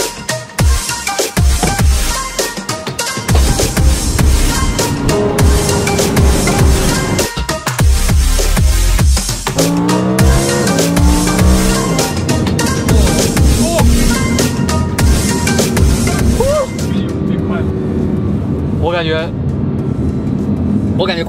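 A Lamborghini Huracan Performante LP640-4 fitted with a valvetronic X Fi exhaust drives along a mountain road, its engine roaring through gear changes with rising and falling revs. Someone talks over the sound throughout.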